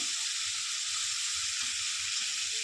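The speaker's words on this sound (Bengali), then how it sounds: "নাড়াচাড়া করে নিচ্ছি।" Snakehead fish frying in a pan gives a steady, even hiss of sizzling oil that stays constant from start to finish, with no other sounds.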